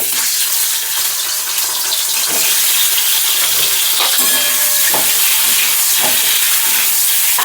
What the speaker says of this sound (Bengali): কড়াইয়ের মধ্যে দেখো তেল গরম করে নিয়েছি, আর এখানে আগে প্রথমে ডিমগুলো ভেজে নেব।